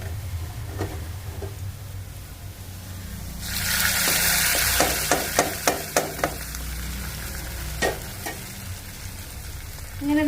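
Mustard seeds fried for a Thiruvananthapuram-style mackerel curry meet the fish and erupt into a loud, bright sizzle. A series of sharp pops and clinks follows, then the hiss settles, with faint kitchen background before and after.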